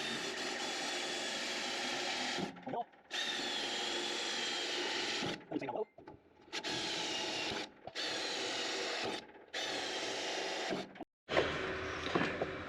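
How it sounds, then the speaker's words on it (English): Power drill boring holes into a stake pocket on a 1967 Kaiser Jeep M715, a loud steady whine in several long bursts separated by short pauses. "we're just going to start out by drilling about a ½ inch down."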